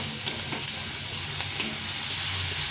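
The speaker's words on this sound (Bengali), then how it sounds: "গাজরটা দিয়ে দেবো, দিয়ে এটাকে ভালো করে ভেজে নেব।" Grated carrot sizzles in a hot pan for vegetable fried rice made with leftover rice, a steady close frying hiss with faint stirring scrapes and no one talking.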